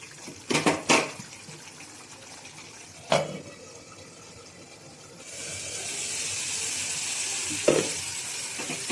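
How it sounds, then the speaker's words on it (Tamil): Dry fish gravy simmers and bubbles in a pan, a soft, steady sizzle that grows fuller partway through, punctuated by a few sharp clinks of a utensil against the pan. "ஒரு 5 நிமிஷம் நல்லா கொதிக்க விட்டுருவோம்"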